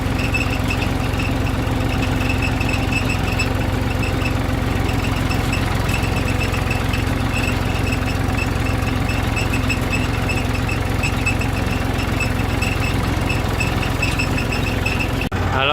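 A tractor engine runs steadily on a village farm near a coriander field, a continuous close, even rumble with a faint higher whine on top, heard alone for the full stretch.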